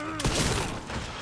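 A single Resident Evil shotgun blast hits sharply near the start, followed by a ringing, fading tail and faint game ambience.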